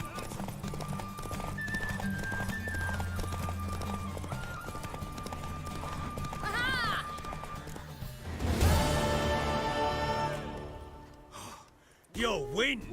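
Horse hooves clip-clop in a fast gallop in The Witcher 3, a steady rhythmic beat under game music and a voice, then a horse snorts and neighs near the end.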